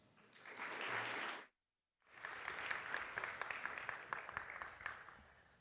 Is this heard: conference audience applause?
yes